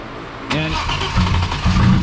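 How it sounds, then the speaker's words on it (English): An Audi A4 2.7T drift car on a dyno cranks briefly, then catches and fires with a loud surge, settling into a rough, pulsing run with a couple of revs close by. "I'm gonna let it sit there and crank and build up some motor."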